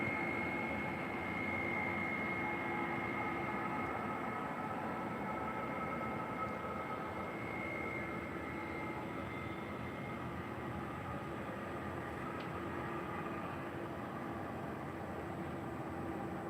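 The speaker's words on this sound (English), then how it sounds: "767 action here as we have one about to take off and one about to land here on the north side" A Boeing 767 jet taking off at LAX, a steady distant engine roar with faint tonal whine, continuous and even throughout with no voices.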